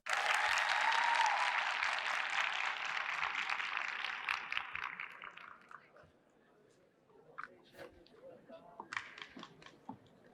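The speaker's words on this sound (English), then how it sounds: "So please clap for them again." Loud applause from an award-ceremony audience fills the first six seconds and then fades out, leaving only faint scattered claps and room noise.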